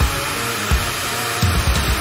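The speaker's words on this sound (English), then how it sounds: "let's test it with heat gun" A heat gun blasting hot air onto an ear of corn roars loud and steady from start to finish, with a few low bumps and thuds breaking through the constant rush.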